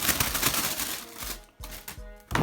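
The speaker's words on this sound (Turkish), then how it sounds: "Hay inanılmaz içinden başka poşetler çıktı. Hadi bunları açalım." Close, loud crinkling and rustling of plastic bags as packets of Plants vs. Zombies plush toys are torn open, in dense bursts with short pauses.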